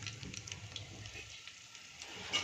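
Curry leaves and three to four dried red chillies sizzle loudly in hot tempering oil for a Kathiyawadi tuvar thotha dish, a bright continuous hiss with small crackles and a sharper burst near the end.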